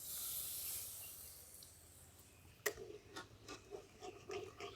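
Water from a rinsed spice bowl poured into hot frying masala for paneer kali mirch, starting as a loud hiss that fades, then giving way to faint, irregular spitting and bubbling pops.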